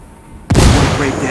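A frag grenade blast in Ghost Recon Wildlands erupts as a single loud, close boom after a quiet lead-in, then rumbles and decays over the following second.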